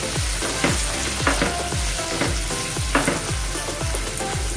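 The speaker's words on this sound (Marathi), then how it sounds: "आता याच्यामध्ये आपल्याला टोमॅटो टाकायचे। मिक्स करून घ्यायचं।" Tomatoes sizzle and fry in a pan for a green chilli thecha, with a steady loud sizzle and repeated scraping stirs at a regular rhythm, close up and with no talk.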